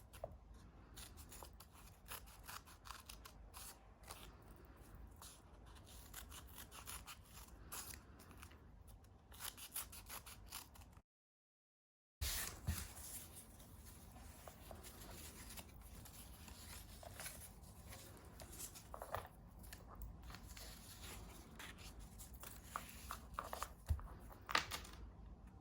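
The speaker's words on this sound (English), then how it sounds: "Still always cutting away from my body and turning the paper." Scissors snip steadily through paper being cut for kirigami, a run of close, quiet crisp cuts and rustles as the sheet is turned, with a brief silent gap midway and no talking.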